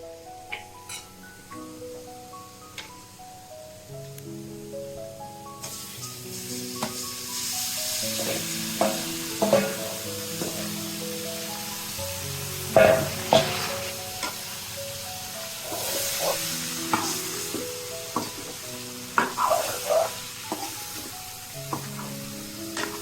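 Chyawa fish fries in a pan after potatoes, starting with a quieter sizzle that swells into a steady, bubbling hiss, punctuated by sharp clinks and scrapes of a utensil against the pan.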